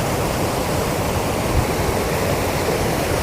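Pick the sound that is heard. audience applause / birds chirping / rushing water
rushing water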